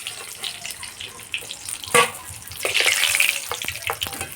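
Banana flower chops fry in oil as a soft, steady sizzle and bubbling, with a louder splash of frying near the end and a few clinks of utensils, and no talking.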